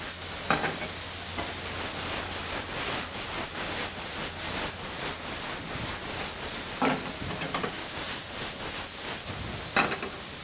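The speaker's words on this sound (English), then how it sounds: "the chopped tomatoes. And we continue tossing." Chopped tomatoes tossed with beef liver in a hot pan: a steady broadband sizzle throughout, broken by a few sharp scraping tosses near the start, middle and end, with no voices.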